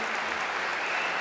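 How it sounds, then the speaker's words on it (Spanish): Dense, steady applause from an audience at an Argentine official ceremony on the new national Code, a continuous close wash of clapping heard on its own for a brief moment. "queremos darle un aplauso desde acá"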